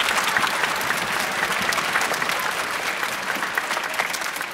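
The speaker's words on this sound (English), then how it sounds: "can we have a round of applause for all of them?" An audience at an elementary school winter concert claps steadily and densely for several seconds, a close, continuous patter of many hands with no voices standing out.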